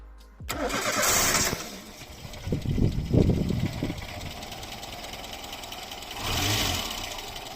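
A Renault Supercinco engine revs up under acceleration on a test drive, rising in two loud surges with a calmer running stretch between, close and without talk.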